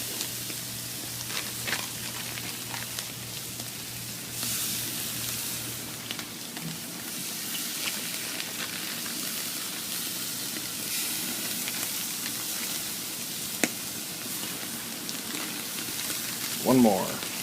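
Shrimp sizzle on a hot grill for chicken and shrimp fajitas, a soft, steady crackling hiss with occasional sharper pops, while a voice talks over it.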